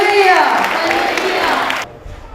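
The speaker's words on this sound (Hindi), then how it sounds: "जोरदार धन्यवाद दे प्रभु को तालियों से और जोर से" Church congregation clapping and cheering together at a worship gathering, a loud dense crowd roar that stops abruptly near the end, leaving a faint murmur.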